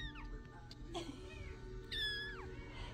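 An F2 Savannah kitten gives several small, high, thin meows, fairly close, with a longer rising call near the middle over low room noise.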